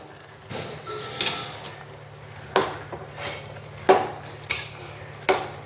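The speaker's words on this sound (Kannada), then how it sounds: "ಈ ಎಲ್ಲ ಮಸಾಲವನ್ನು ಹಾಕಿಕೊಂಡು ಸರಿಯಾಗಿ ಮಿಕ್ಸ್ ಮಾಡಿಕೊಳ್ಳುವ" Ladle stirring spice masala into tender cluster figs in a cooking pot, with several sharp scraping knocks at irregular intervals over a low steady hum.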